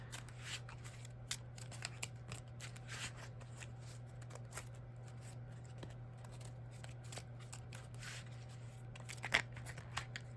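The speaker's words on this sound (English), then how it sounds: "I hate when I mess up in shuffling" A deck of Yu-Gi-Oh trading cards shuffled by hand at close range, quiet repeated riffling and flicking bursts over a low steady hum, with one sharper snap near the end.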